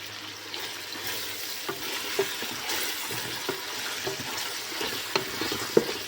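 Onions fry and are stirred in a pan while cooking for a Malayali food fete, producing a continuous close sizzle punctuated by soft scrapes and light taps of the spoon, with no voices.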